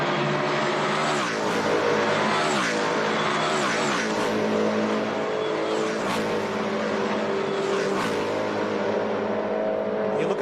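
S5000 race cars roar past at speed one after another at Tailem Bend Motorsport Park, engines rising and falling in loud repeated passes with a constant high-pitched whine.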